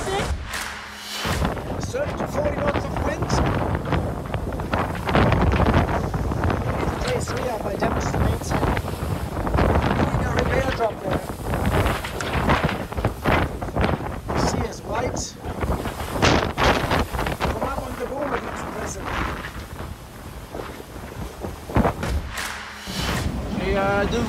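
Strong wind of about 45 knots roars and buffets the microphone continuously at sea on a racing sailboat, with rushing water and occasional thuds from the boat, a voice speaking intermittently underneath.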